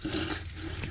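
Water spills from a hose just detached from a 2022 G23 wakeboat during winterization, a steady, close gushing and splashing flow that holds for about a second with no talk over it.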